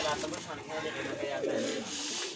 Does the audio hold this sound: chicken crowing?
no